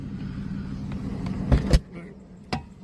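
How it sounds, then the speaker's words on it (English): A car passes on the road outside a parked classic Daimler XJ40, a low steady rumble under sharp nearby clicks and knocks, one louder thump in the middle and another near the end. "there's a car coming"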